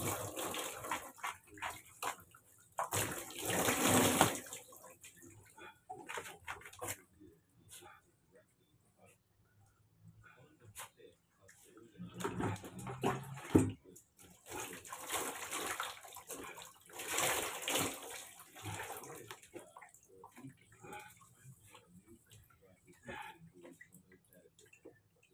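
Water splashes and pours intermittently while rinsing during a bath, quiet bursts of sloshing coming and going with soft handling sounds and faint talk in between.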